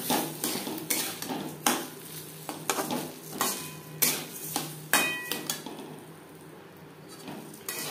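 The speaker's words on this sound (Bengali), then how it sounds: "এক দু মিনিট নাড়াচাড়া করে নেওয়ার পর দিয়ে দেব জল ঝরিয়ে রাখা গোবিন্দভোগ চাল।" Drained Gobindobhog rice is stirred into a sizzling pan for Basanti pulao, with a utensil repeatedly scraping and clinking against the metal in a steady rhythm over a light frying hiss.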